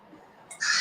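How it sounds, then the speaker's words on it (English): Parrots squawk, a faint rustle first, then a sudden bright, harsh cry bursting in near the end. "Background music by parrots."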